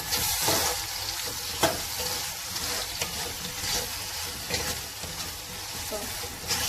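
Meat for Sudanese kebab sizzles and fries in a pan with onion, a continuous close hiss broken by occasional stirring clicks, with no voices.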